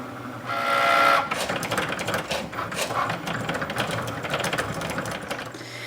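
A Cricut cutting machine works on a photo ornament design, opening with a steady whirring motor tone, then a busy run of close mechanical whirs, ticks and carriage movements with no speech.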